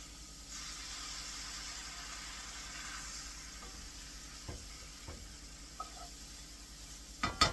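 Vegetables sautéing in a skillet after cooking down, a soft steady sizzle and hiss near the pan, with a few faint clicks and a louder knock near the end, no speech.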